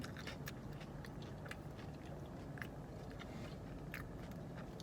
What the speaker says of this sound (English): I think I'm gonna eat this nugget and some fries